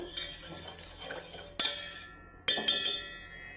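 Spoon stirring sugar syrup with cardamom in a pot on the stove for palm cake, with a steady scraping swirl broken by two sharp metallic clinks against the pan.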